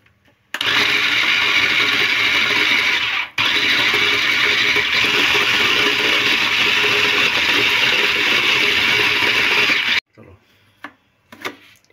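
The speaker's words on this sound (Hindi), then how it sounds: "सबसे पहले मैं बीफ का कीमा बनाऊंगी।" An electric grinder minces beef for kofta, whirring loudly and steadily for about ten seconds with one brief interruption, then cutting off to leave faint handling clatter.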